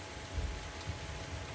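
Steady rain falls on a boat that is taking on water, a dense, even patter with soft low thumps of drops on the hull and deck, heard alone with no voices.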